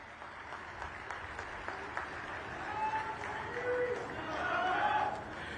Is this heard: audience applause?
yes